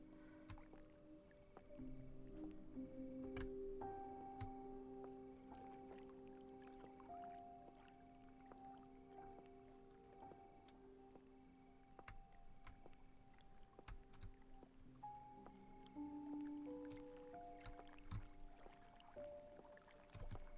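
Water laps and trickles in a quiet ambience from the video game Cabernet, with soft sustained musical tones and occasional sharp drips or clicks over a faint, steady background.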